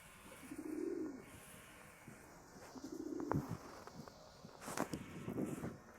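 Pigeons coo in soft, low, rolling phrases, three or four bursts spaced a couple of seconds apart, close by, with faint rustling and a few light knocks between them.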